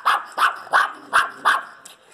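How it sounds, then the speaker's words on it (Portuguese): Several dogs left alone in a filthy apartment bark in a rapid run of five sharp, loud barks at an even pace, with a fainter sixth bark trailing off at the end. "Os animais estão sozinhos no apartamento e latem quando uma pessoa se aproxima."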